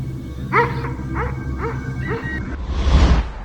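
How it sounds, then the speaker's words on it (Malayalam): Dogs barking while chasing a fox in a village, a run of four or five sharp, evenly spaced barks close by, followed by a rough burst of scuffling noise. "ഗ്രാമത്തിലെത്തിയ അപരിചിതനായ കുറുക്കനെ കണ്ടതും നായകൾ കുറുക്കനെ ഓടിച്ചു."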